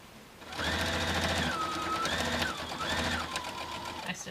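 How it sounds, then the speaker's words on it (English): A sewing machine stitches fabric binding in short continuous runs, a loud close motor whir with rapid needle chatter that dips in pitch between bursts as the stitching slows and resumes. "I stitch up to about a 1/4 inch away, go back and forth to secure it"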